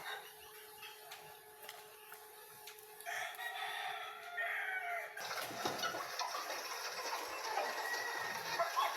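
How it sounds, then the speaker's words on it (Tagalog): Backyard chickens feeding, with a rooster crowing and hens clucking at moderate distance amid rustling and some outdoor background noise, crowing calls breaking through more loudly in the second half. "Daming kumakain manok, oh."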